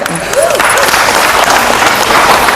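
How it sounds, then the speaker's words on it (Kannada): Audience applause at a district artists' association meeting, a loud sustained burst of clapping from a crowd, with a voice briefly heard at the start. "ಚಪ್ಪಾಳೆ"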